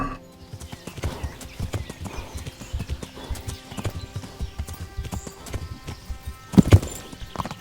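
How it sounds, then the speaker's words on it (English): Horse hooves clip-clopping steadily in Kingdom Come: Deliverance, a continuous close rhythm of hoofbeats on hard ground with a louder snort or whinny near the end. "we have really put this horse through its paces here"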